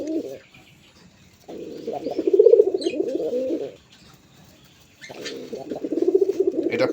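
Pigeons at a seller's coop, including black pigeons, coo in two long, rhythmic bouts separated by a short pause, the soft throaty calls close and clear with no talking.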